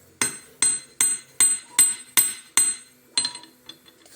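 Sharp metallic taps of a small hammer flattening a bronze needle, seven evenly spaced blows followed by a few lighter, quicker taps, close and clear.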